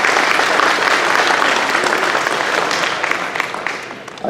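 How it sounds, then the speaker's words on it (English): Sustained applause from an audience at a school DARE program graduation ceremony for fifth graders: dense, even clapping that holds steady and then tapers off slightly toward the end. "So my round of applause to you."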